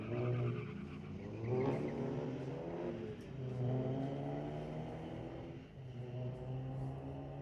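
Street-legal drag race cars at Mission Raceway rev and accelerate in repeated rising engine surges, a steady mid-distance motor roar that swells and eases several times across the stretch.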